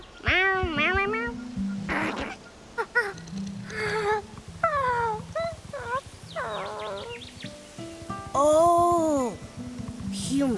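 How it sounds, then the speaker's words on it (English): Cats meowing in the video game Infinity Nikki, a string of clear, rising and falling meows repeated many times close up over soft background music, with a voice also heard. "Could you repeat that? Meow, meow, meow, meow, meow."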